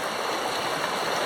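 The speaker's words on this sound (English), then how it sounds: "the power of water, the amount of water that's coming down this river just now" Fast-flowing river water rushes past a pontoon in a steady, loud, close hiss and gurgle that runs without a break.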